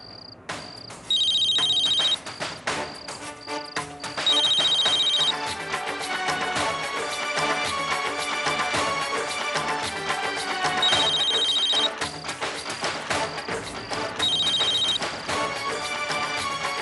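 A phone ringtone sounds loudly and repeatedly, a bright electronic melody that keeps cycling with recurring high beeps, mixed with a musical score in a Hindi TV drama scene.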